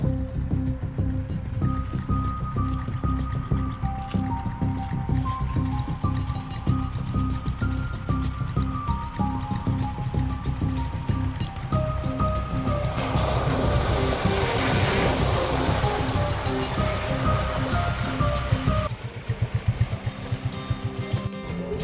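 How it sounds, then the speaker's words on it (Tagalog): River water churns and splashes as a car drives through a river near Lake Mapanuepe in San Marcelino, Zambales, with a low engine drone throughout and a louder surge of rushing water in the middle. "Ito na yung nadaanan ng ilog."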